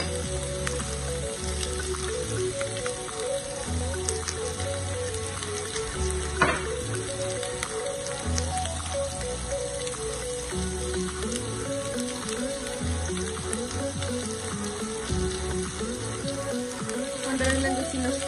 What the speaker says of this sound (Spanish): Vamos a sellarlos por 1 minuto y medio por cada lado